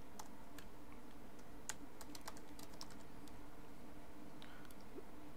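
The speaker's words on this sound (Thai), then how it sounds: "เดี๋ยวผมลองพิมพ์ให้ดูก่อน" Typing on a computer keyboard while entering Python code for network automation, a steady patter of light, close key clicks with a few sharper taps, heard alone with no talking.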